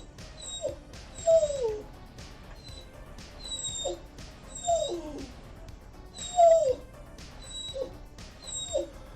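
A puppy in the room whimpers over and over, giving high, thin whines and short yips in an uneven rhythm, close and fairly clear, with faint background sound beneath.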